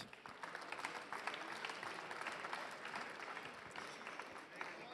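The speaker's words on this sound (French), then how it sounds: "On peut les applaudir, s'il vous plaît" Faint, distant applause rises from the audience at an awards ceremony as jury members are welcomed onto the stage, a continuous patter of many hands clapping.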